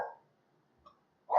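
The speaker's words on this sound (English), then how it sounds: "Sorry for my dogs." A dog gives two short barks at the start and end, with a faint yip between and near silence around them.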